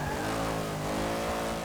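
Stock Jaguar race car engine in Forza Motorsport 6, a steady loud drone with rich harmonics held throughout, no talk.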